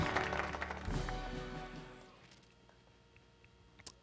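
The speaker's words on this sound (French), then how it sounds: "Applaudissements pour ces trois magnifiques Miss." Applause for three Miss contestants at the Miss RDCongo pageant, loud and dense for about two seconds, then tapering off into quieter hall ambience.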